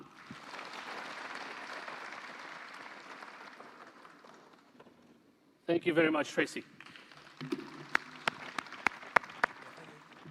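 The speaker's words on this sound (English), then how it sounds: "I think she deserves another clap." Crowd applause at the Kenya Kwanza manifesto launch rally at Kasarani, a broad steady roar that fades over several seconds as someone speaks over it, followed by scattered taps and knocks.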